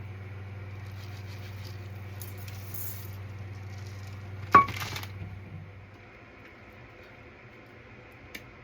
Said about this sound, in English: That's 1 cup of steel cut oats and a 2nd cup of steel cut oats.